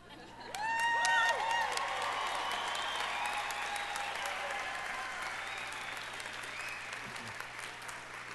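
Law school commencement audience bursting into applause with cheers and whoops, loud at the start and then settling into steady sustained clapping that carries on to the end.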